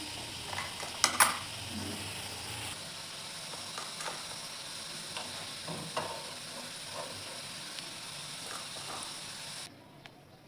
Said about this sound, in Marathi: हे बघा, आपले बटाटे पण मस्त तळले गेले आहेत